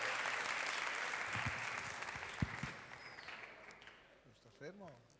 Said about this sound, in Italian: accogliamo con un bel applauso il sindaco di Verona, Damiano Tommasi